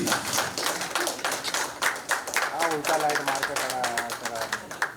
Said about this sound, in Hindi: जोरदार तालियां फॉर शबाना आजमी जी।